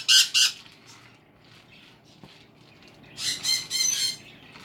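Pet cockatiel mimicking laser-shooting sound effects, shrill close squawks in a quick pair, then a quiet stretch, then a longer run of three or four bright buzzy zapping calls.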